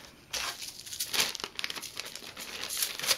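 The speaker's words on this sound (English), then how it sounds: "I love to hear beads shake" Beads shake inside a plastic package, making close, soft crinkling and rattling in irregular bursts that rise and fall for a few seconds.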